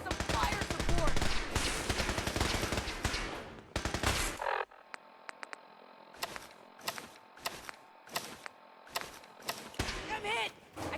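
Gunfire in the 2015 video game Fallout 4 opens as a dense, loud burst of automatic fire lasting several seconds, then breaks into a string of separate sharp shots spaced irregularly over a lingering background hum.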